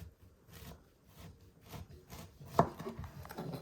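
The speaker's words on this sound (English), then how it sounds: "So I'm just going to cut this carefully again." A knife slices through a head of cauliflower into flat steaks on a cutting board, giving soft, uneven chopping and rubbing strokes, with one sharper cut standing out near the end; no one speaks.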